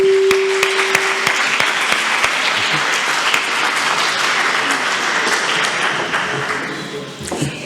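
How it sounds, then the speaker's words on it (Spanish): Audience applause at an education conference session, crisp individual claps at first that swell into steady, fairly loud clapping from a seated crowd, with a brief tone sounding near the start. "Un fuerte aplauso para ellos."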